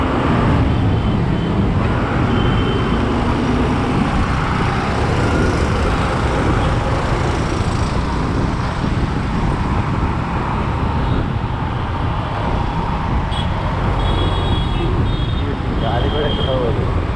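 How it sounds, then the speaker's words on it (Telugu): Steady, dense road traffic noise from a jammed road near the Kukatpally JNTU flyovers, with engines idling and rumbling continuously throughout, a few faint beeps and indistinct voices mixed into the constant roar. "ఇక్కడ ఎప్పుడు ట్రాఫిక్ జామ్."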